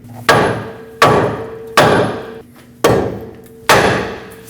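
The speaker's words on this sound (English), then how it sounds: "Now use a hammer and tap the knuckle right here to break this free" Five sharp metallic hammer strikes on the steering knuckle of a Nissan Frontier 2WD ring out at a steady pace, each leaving a brief ringing decay before the next blow.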